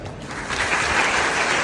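An audience clapping after a shawl is presented at an honouring ceremony, a dense, continuous burst of many hands that swells slightly and holds steady, no voices.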